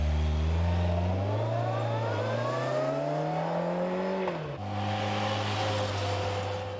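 A Kawasaki ZX-11 Ninja motorcycle accelerating hard, its engine note climbing steadily through the gears with a smooth rising whine, a quick dip at a shift, then a sustained high-revving drone close by.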